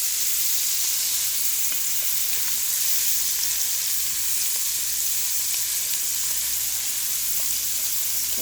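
Cabbage, bacon and Vidalia onion sizzle steadily in a pan, a dense, even hiss that holds throughout with faint stirring taps beneath.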